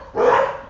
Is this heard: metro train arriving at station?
no